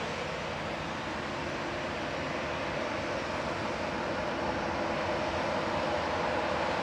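At Manchester Airport, a jet departing on the flight to Corfu gives off a constant, fairly loud engine roar that holds steady throughout with no talking.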